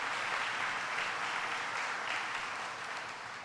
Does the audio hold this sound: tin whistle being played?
no